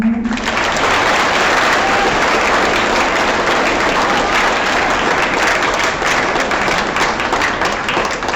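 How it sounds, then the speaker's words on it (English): An audience claps for award-winning students at a school awards program, a loud, dense wash of applause sustained throughout without letting up. "You can clap for them."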